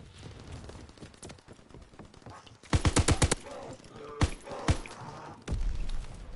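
Rapid bursts of Tesla gun fire in a Call of Duty match, with a dense volley of loud cracks near the middle followed by a couple of separate sharp blasts and a final burst over faint background game noise.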